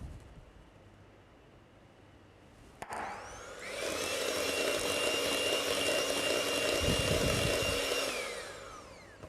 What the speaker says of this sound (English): Whisk back again.